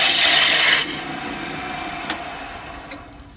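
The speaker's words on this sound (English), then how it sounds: "This maple lathes like a dream." Maple turning on a lathe, a loud close scraping hiss of the cutting tool for under a second, then a fading whir as the spinning stops, with a couple of faint clicks.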